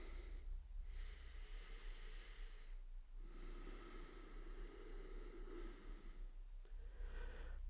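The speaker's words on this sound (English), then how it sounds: "Breathing in and out through your nose." Slow breathing in and out through the nose during a yoga flow, soft airy hisses rising and falling in long cycles of a few seconds each, close and quiet with no talking.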